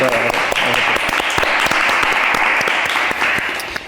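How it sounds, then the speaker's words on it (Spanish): A live podcast audience gives a strong round of applause for the guest, with sharp, distinct hand claps rattling steadily throughout at close range. "un fuerte aplauso para Eric"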